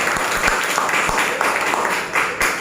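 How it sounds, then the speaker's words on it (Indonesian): A company group gathering breaks into applause, close and fairly loud clapping from a room of people that swells and dips over a couple of seconds. "Tepuk tangan buat kita semua."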